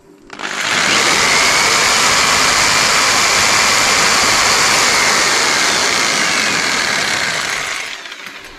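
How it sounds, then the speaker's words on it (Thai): A loud, continuous electric jigsaw motor buzz, powered by a solar power station inverter, starts up, runs steadily for several seconds, then cuts off and fades. "นี่เลื่อยจิ๊กซอว์นะครับ"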